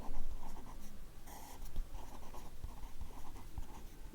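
A pen scratches steadily across paper while working out a Class 12 maths problem, close and continuous with short strokes and brief pauses, no speech.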